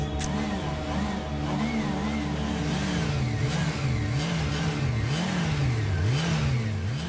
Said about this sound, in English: The motorcycle unit are a highly visible presence on the streets of Manila.